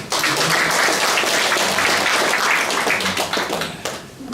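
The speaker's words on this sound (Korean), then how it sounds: "그래서 우리 수과장님들 일어나 인사해 주시고 박수 좀 쳐주세요." A township meeting audience claps for department heads as they stand, loud close applause with some individual sharp claps, holding steady then tapering off near the end.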